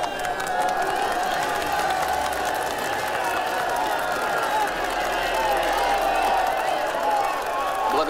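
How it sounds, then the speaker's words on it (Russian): Applause from a crowd at a staged event introducing a contestant, dense steady clapping with cheering that holds at even loudness throughout. "Аплодисменты!"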